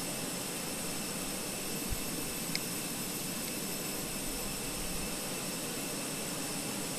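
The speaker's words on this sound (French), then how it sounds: "je vais commencer à démarrer les moteurs" Airbus A320 jet engines spool up in a flight simulator, a steady broadband whine and hum that holds evenly throughout, fairly quiet, with no talking over it.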